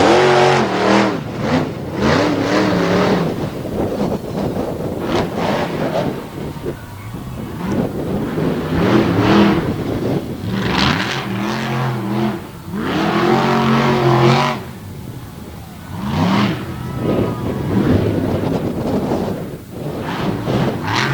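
A competition car doing donuts during a freestyle run at the All Star Championship in Aiken, its engine revving hard in repeated loud surges with wind buffeting and a commentator talking over it.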